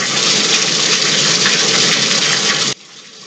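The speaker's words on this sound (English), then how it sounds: "fill the bucket up the rest of the way with hot water" Hot tap water from a bathtub faucet gushes loudly and steadily into a bucket, then cuts off abruptly near the end, leaving a quieter background hiss.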